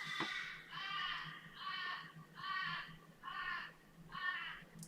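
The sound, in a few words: crows cawing at night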